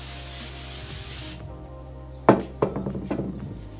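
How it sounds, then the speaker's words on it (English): Accelerator spray hisses in a steady burst onto a wooden zero-clearance miter saw insert, then cuts off, followed by a few sharp knocks and light handling clatter. "taking some accelerator spray, I'll go ahead and spray the other side"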